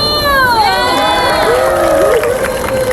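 Fans at a K-pop girl group's mini fan meeting cheer and shout in high excited voices over crowd noise, loud and close, with clapping buried under the screams.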